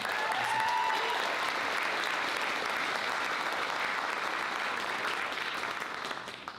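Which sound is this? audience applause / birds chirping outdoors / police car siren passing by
audience applause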